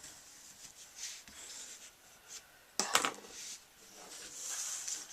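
A bone folder creases folded card stock in one brief, sharp scraping stroke near the middle, set among faint paper rustles and soft handling noises nearby.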